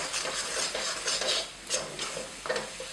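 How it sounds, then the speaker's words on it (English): Grated carrot halwa mixture with ghee and cashews, almonds and raisins is stirred and dry-roasted in a pan, a spatula scraping in repeated close strokes over a soft sizzle, with no voices. "dry roast or bruno the carrot mixture again for about 5-7 minutes"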